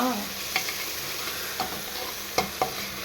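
Spiced food being sautéed in a pan at home, a soft continuous sizzle broken by a few sharp scrapes and taps as a spoon stirs it against the pan.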